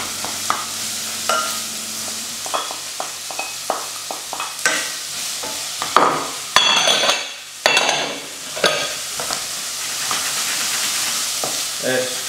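Carrot and leek frying over fairly high heat in a pan, with a continuous sizzle and repeated scraping stirs and utensil knocks against the pan, close and loud.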